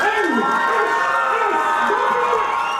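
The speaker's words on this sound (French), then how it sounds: "C'est devant les applaudissements et les cris des amateurs que plusieurs artistes ont pris la scène." A concert audience roars and whoops in a loud, continuous wave of cheering voices, with shouts rising and falling throughout.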